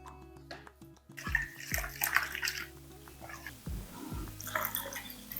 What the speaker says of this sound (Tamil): இந்த அளவுக்கு தண்ணி ஊற்றி நீங்கள் அரைச்சிங்கன்னா தான் நல்லா அரைக்கிறதுக்கு வரும்.